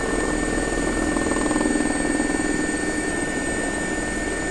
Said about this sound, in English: This one sounds better than all the other helicopters, dude